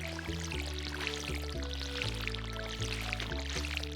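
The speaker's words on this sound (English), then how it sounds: "You were actually at its bowl trying to do something with your watering can." Water pours from a watering can in the Stardew Valley farming game, a soft steady splashing stream over a looping background melody of game music.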